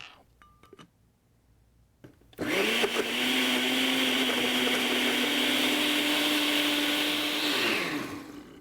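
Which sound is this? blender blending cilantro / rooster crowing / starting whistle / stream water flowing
blender blending cilantro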